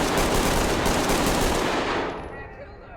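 Sustained automatic gunfire in a police video game shootout, a loud, dense burst rattling continuously for about two seconds before tailing off into fading echoes.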